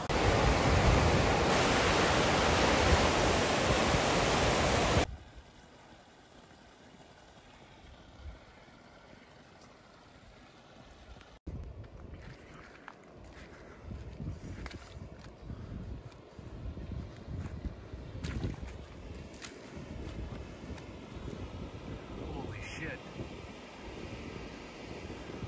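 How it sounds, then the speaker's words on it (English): Flash flood debris flow carrying trees and tractor tires rushes down a creek off Pine Gulch north of Grand Junction: a loud, roaring broadband rush for about five seconds, then a quieter, steady churning of water mixed with gusty wind noise. "you can see an absolutely dangerous debris. free flow heading down the creek here"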